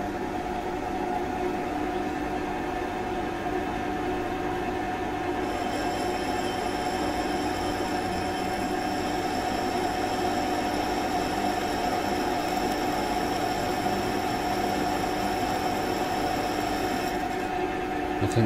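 A resharpened carbide lathe tool cuts a gear linkage rod for an MST Ford Escort on a Smart & Brown lathe, giving a steady high-pitched whine with a shrill squeal over the middle stretch, no talking.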